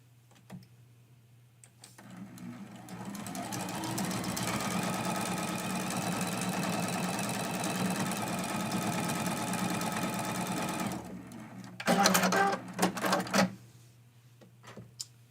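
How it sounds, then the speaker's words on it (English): A home sewing machine runs steadily for about nine seconds, stitching a quilt-as-you-go mug rug seam that begins on a small fabric leader, then stops, followed by brief handling clatter. "I start with a little leader because my machine doesn't like starting the seam right at the edge of anything"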